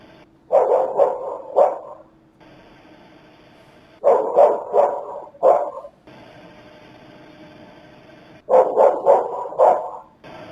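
A dog barks in three loud bursts of rapid, repeated barks recorded on outdoor surveillance footage from a residential property at night, with steady background hiss filling the quieter gaps between bursts.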